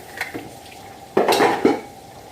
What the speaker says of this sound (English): Over here washing these dishes.